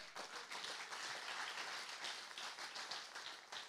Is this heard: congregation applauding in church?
yes